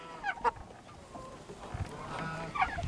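Farm birds, including a big white duck, a blue chicken and a black rooster, making a few short honks and clucks close by, quiet and scattered with gaps between calls.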